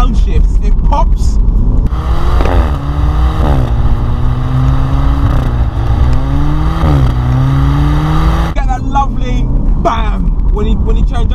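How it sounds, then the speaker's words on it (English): A BMW Z4 with an automatic gearbox accelerating hard through the gears, engine note rising and dropping at each shift, with sharp exhaust pops and bangs crackling on the changes, loud and close. "you get those beautiful pops and bangs at the back in the exhaust"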